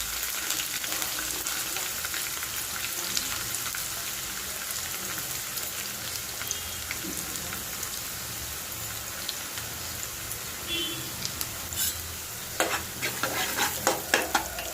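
Finely chopped onions and green chillies frying in a pan as they are stirred for pongal chutney, a steady close sizzle with scraping stir strokes and a few louder clinks near the end, no voices.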